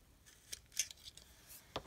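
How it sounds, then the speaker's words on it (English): A small crocodile hole punch bites a little hole in paper for a junk journal: faint, close snips and light clicks, with one sharper snap near the end, in a quiet room. "I'm going to go ahead and cut a little hole"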